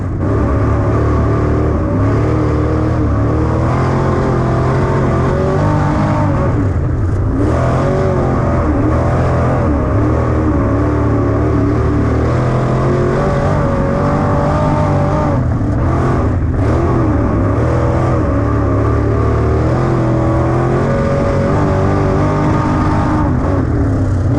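A sport mod race car on the dirt oval at Cottage Grove Speedway, its engine a loud steady roar with revs rising and falling as it slides through a corner, close and continuous throughout.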